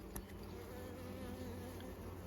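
Steady insect buzzing from many honey bees on a hive frame, a continuous close drone with a faint hum underneath and a brief click near the start.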